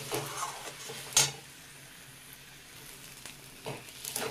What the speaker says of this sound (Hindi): 2 मिनट और भूनूंगी मैं।